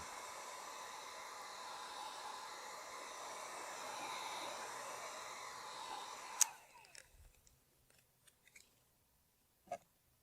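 A heat gun warms vinyl retro side panel graphics on a Ford Bronco, giving a steady, close blowing hiss that cuts off abruptly, followed by a few faint clicks and handling taps.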